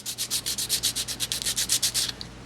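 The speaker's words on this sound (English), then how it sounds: "Sand it with some really rough sandpaper and get your shape down." Rough sandpaper rubs back and forth over a carved wooden fork in fast, even strokes, about a dozen rhythmic rasps close up, with no talking.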